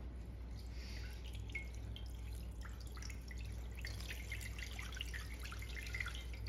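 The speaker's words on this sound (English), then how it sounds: "Now I'll put water in about halfway up to this trivet," Water poured into a 15-inch cast camp oven over a fire, filling it about halfway up to a tall trivet: faint, close dribbling and dripping splashes over a steady low background hum.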